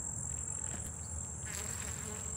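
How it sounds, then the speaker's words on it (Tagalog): Bees inside a flower make a steady, close buzz that drones continuously with a thin high whine on top, unbroken for the whole stretch. "Ang mga bubuyog pala ay nandito sa loob ng bulaklak"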